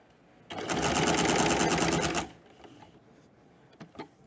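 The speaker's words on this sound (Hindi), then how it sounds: "तो इस तरह से हम कुर्ते के लिए प्लेकेट को स्टिच करेंगे।" Sewing machine stitching the placket of a men's kurta, running in one steady loud burst of about two seconds before stopping, with faint handling noises after.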